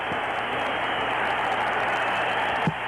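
A boxing crowd at a 1975 fight between Roberto Duran and Edwin Viruet, cheering and applauding in a steady, dense roar of claps and voices, with a faint thump near the end.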